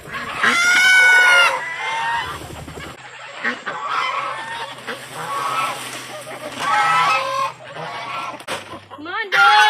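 Ducks quack and honk in loud, repeated bursts while a woman calls them over for food, her voice mixing with their calls throughout.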